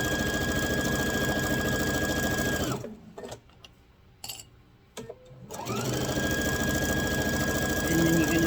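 A sewing machine stitches a fabric grocery bag in a steady mechanical whir, stops for about three seconds, then starts up and keeps running.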